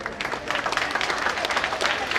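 Audience applauding athletes at a Special Olympics zone-level sports meet, a dense, steady burst of clapping from a crowd filling the whole moment.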